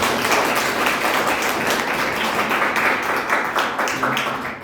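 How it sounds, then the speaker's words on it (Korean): A church congregation at a Korean church in Mexico claps enthusiastically during a Sunday service, a dense, steady wash of applause that holds for several seconds and thins slightly at the end. "박수 한번 화끈하게 쳐요."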